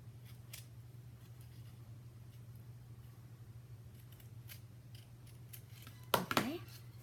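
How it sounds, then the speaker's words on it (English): A brief, sharp snip of scissors cutting fabric for a doll camisole pattern lands near the end, close and crisp over a steady low electrical hum. "Make sure I cut it right in the center."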